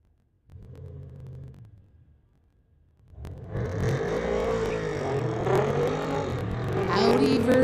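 Audi and BMW sports compact cars at a drag strip: a low idle rumble, then a loud surge of engine roar as the cars launch and pull away, with voices faintly under it.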